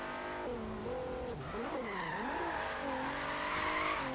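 A car in the Forza Horizon 3 racing game drives hard with a steady engine note while its tires squeal and skid through corners, the pitch swooping up and down over several seconds.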